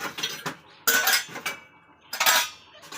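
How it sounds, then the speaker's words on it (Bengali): Small metal utensils and dishes clink and scrape during washing, in irregular bursts of clatter with quieter rubbing between, close by and with no voices. "আমি কয়েকদিন বাড়ি আসবো না, তাই বাসন কটা মেজে ধুয়ে রাখছি।"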